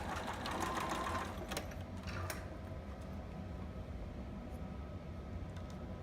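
A sewing machine stitching the side seam of a two-piece baby sitter outfit, running steadily and fairly close for several seconds, with a few sharp clicks early on and no talk.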